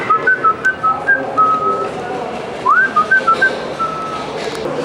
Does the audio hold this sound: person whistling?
yes